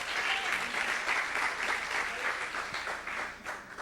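A church congregation claps steadily together in praise of God after a sermon, a sustained wash of applause with no talking over it.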